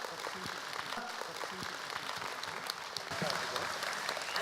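Audience applauding at a Gwangju talk show on considerate driving culture, steady dense clapping throughout that swells slightly louder near the end.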